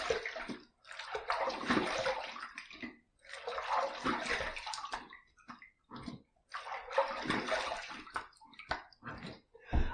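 Running water from a tap splashes steadily as a bronze safety razor head is rinsed, in three long bursts separated by short pauses with small knocks and drips.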